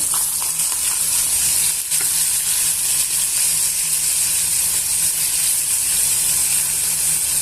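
Onion pieces and green chili slits frying in a pan with garlic paste, a bright, even hiss of hot oil running steadily, loud and close, with one brief knock partway through and no voices.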